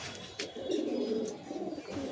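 A racing pigeon gives soft, low, throaty coos up close, a few rolling phrases over about two seconds with faint background noise.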